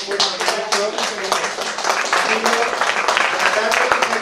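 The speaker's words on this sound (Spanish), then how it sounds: "yo creo que se merecen un aplauso" An audience claps steadily throughout, a dense patter of hands with some voices mixed in.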